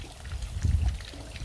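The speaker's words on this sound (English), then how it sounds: "I'm going to water this thing" Water poured onto a freshly transplanted plant in a flowerbed trickles and splashes softly for a moment, close by and quiet.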